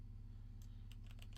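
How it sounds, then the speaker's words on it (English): Typing on a computer keyboard: a short run of several quick, light key clicks, close and soft, starting after a moment of quiet over a steady low hum. "And let's type some."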